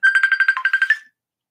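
Phone ringing with an incoming call: a rapid, loud electronic trill of about ten pulses lasting around a second, then silence.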